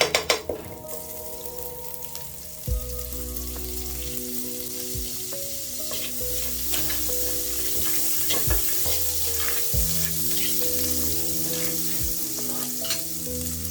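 Cooking oil and butter or margarine sizzle in a pot with a steady frying hiss, broken by a few metallic clinks and stirring scrapes against the bottom.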